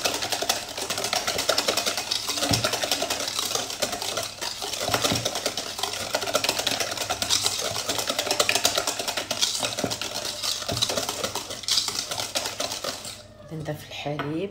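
An electric mixer whisks plum cake batter in a continuous rattling whirr, close and fairly loud, with light clinking against the bowl throughout.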